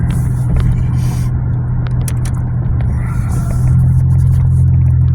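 Interior car engine drone and road rumble while driving, a steady low hum throughout with faint scrapes and brief higher clicks, slightly louder near the end.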